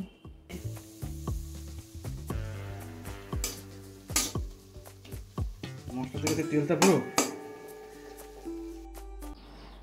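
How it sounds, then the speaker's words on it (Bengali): Ground coriander, cumin and salt being stirred through hot oil in a pan for a Bengali fish curry, with repeated scraping and clinking of a spoon against metal and light sizzling, plus occasional background voice. "গুঁড়ো মশলাটা দিয়ে একটু নাড়াচাড়া করে নিচ্ছি।"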